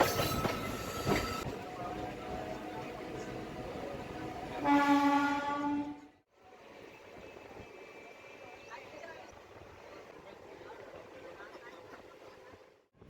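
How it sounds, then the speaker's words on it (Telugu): A MEMU train departs Bibinagar railway station with loud rolling rail noise and a horn sounding, then the sound drops abruptly and a quieter steady interior rumble continues under a speaking voice. "బీబీ నగర్ రైల్వే స్టేషన్ నుంచి వెళ్తే ట్రైన్ స్టార్ట్ అయింది"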